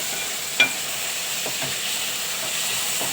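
Chopped onion and tomato are stir-fried in a pan under a steady sizzle, with a single sharp clink of a spoon and a few faint scrapes.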